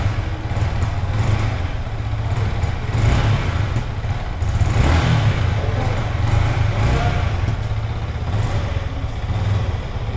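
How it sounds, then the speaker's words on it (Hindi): Silver 2025 Yamaha R15M motorcycle idling nearby, its exhaust giving a loud, steady low burble with a slight rise in the middle and no talk over it. "सो कुछ इस टाइप का था ये अपना एग्जॉस्ट नोट R15M सिल्वर।"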